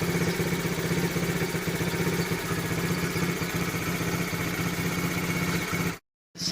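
A 1972 Honda Dax ST70 monkey bike engine idles steadily up close, a continuous even putter that holds throughout before cutting out briefly near the end.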